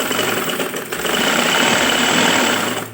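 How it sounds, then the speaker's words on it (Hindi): Sewing machine running a fitting seam on a girl's winter frock, a loud continuous mechanical whir that settles into an even, rapid stitching drone over three seconds, no voices. "अब हम फिटिंग की सिलाई लगाएंगे"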